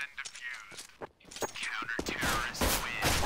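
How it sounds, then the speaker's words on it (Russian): Gunfire rattles in CS:GO, with bursts of rapid shots and single cracks scattered across a few seconds, while a player talks excitedly over the shooting. "он еще и стреляет по мне"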